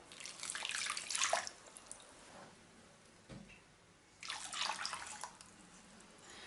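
Warm water pours into a bowl for a yeasted poğaça dough, two bursts of splashing flow a few seconds apart with a short quiet gap between them, close and clear with no talking.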